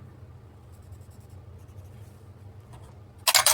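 A pen scratches faintly across a paper game sheet, crossing off numbers in a one-die version of Shut the Box, ending with a sudden louder scrape.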